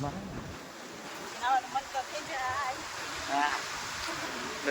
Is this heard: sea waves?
yes